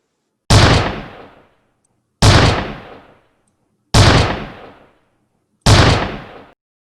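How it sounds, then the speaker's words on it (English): Staged gunfire in a Shakespeare stage revue sounds as four loud, sharp bangs, evenly spaced and each trailing off quickly, with near silence in between. "Bid the soldiers shoot!"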